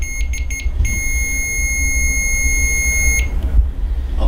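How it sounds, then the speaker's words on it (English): An electronic device used during a paranormal investigation emits a sustained, shrill high-pitched beep lasting over two seconds, preceded by a few short chirps, loud and close over a low background rumble. "You make it beep one more time."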